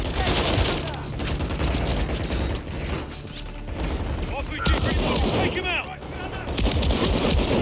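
Modern Warfare III gunfire rattles in fast bursts and single cracks amid mechanical clatter, loud and close, with a steady din of battle filling the scene.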